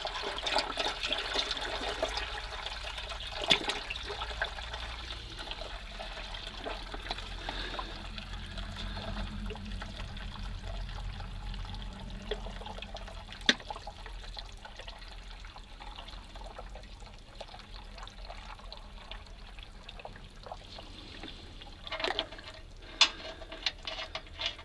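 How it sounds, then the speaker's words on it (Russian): Old oil drains from a Praga V3S truck being repaired after sinking in a swamp, pouring in a long continuous trickle and splatter with occasional faint metallic clicks and knocks, no talking. "Сливаем масло, зальем свежее."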